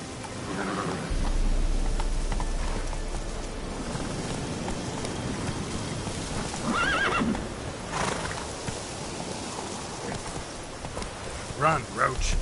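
Neighing and galloping hooves from the horse Roach in The Witcher video game, whinnies rising over steady clip-clop with game music and a voice beneath.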